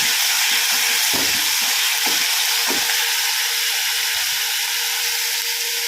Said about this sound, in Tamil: நல்லா எண்ணெயிலே அதை ஃப்ரை பண்ணிகிட்டே இருக்கணுங்க.